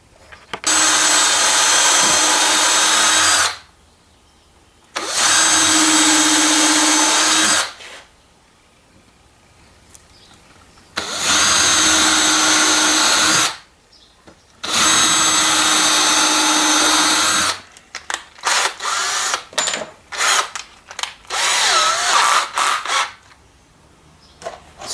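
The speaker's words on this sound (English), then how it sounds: "I'm just going to put a couple screws on the ends" A power drill drives number 8, 1 1/4 inch wood screws into a wooden coyote pelt stretcher, four long whirring bursts separated by pauses, then a series of shorter stuttering pulses near the end.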